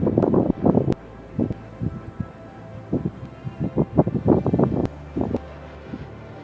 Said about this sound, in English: Also, it sounds like it's windy.